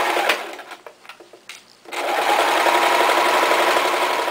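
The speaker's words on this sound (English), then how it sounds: "Making sure to back tack when we start and when we finish, stitch all the way around." Sewing machine stitching around a fabric eye pillow: a few short stop-start bursts of needle chatter, then a loud, steady, continuous run of close mechanical stitching.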